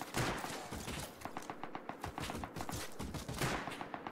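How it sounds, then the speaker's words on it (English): AK rifle gunfire in the game Rust, a long, steady rattle of rapid automatic shots at a fairly even pace, sounding fairly distant and muffled, with slightly louder bursts near the start and end. "It's that same guy that's been shooting at us for like an hour with an AK."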